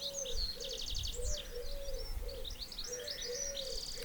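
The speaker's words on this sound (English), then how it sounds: "Hopefully you can hear the birds, they're quite noisy out here today." Several birds chirp and tweet outdoors in a garden in quick bright bursts, with a dove cooing softly in repeated low notes underneath.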